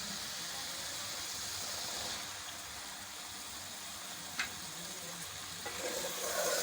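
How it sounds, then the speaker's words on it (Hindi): Boiled white chickpeas frying in oily masala, a constant close sizzle with bright hiss throughout, a couple of quick sharp clicks and a slight rise near the end, no voices. "अब चने को अच्छी तरह से भून लेंगे।"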